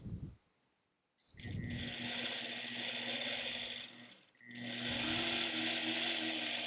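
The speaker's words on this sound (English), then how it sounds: "now I'm ready to stitch" A longarm quilting machine stitches a pantograph design with a close, steady mechanical whir and hum after a brief pause, dipping for a moment midway before resuming.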